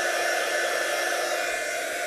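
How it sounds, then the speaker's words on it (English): A hairdryer or heat gun blows steadily to dry layers of craft paint on a vintage London taxi model, a continuous close airy whoosh with no speech. "a hairdryer will do if you haven't got a heat gun"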